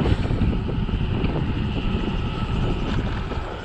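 Steady wind rushes over the microphone in a constant low roar while riding an e-bike at 30 km/h, with no voices.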